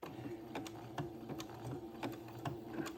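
A sewing machine stitching lace onto a day gown, running in a steady rhythmic mechanical whir with regular clicks, faint and close, with no talking.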